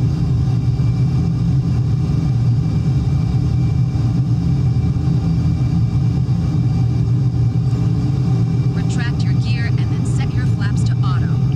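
A fighter jet engine at full throttle in Microsoft Flight Simulator 2020 gives a loud, steady low roar that holds unbroken for the whole stretch, with brief chirpy tones appearing late on.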